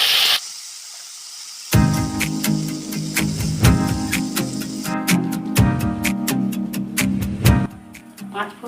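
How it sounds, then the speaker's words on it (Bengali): Panch phoron spices dropped into hot oil used for frying pumpkin and prawns, giving a steady hiss and sizzle, with a burst of spattering and repeated sharp clicks and taps of a utensil against the pan over several seconds. "পাঁচ ফোড়ন দিয়ে দিলাম"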